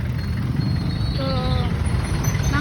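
Low diesel rumble of a jeepney engine idling and pulling nearby on a Philippine street, a steady heavy drone with a brief rising whine, under surrounding traffic noise and a voice talking.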